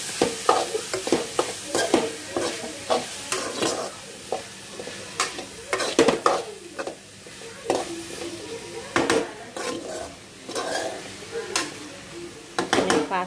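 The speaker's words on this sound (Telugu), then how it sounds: "బాగా మిక్స్ చేయండి" Chopped tomatoes and salt being stirred into a frying mixed vegetable dish, with repeated spoon scrapes and clanks against the pan over a continuous sizzle, close up, no talking.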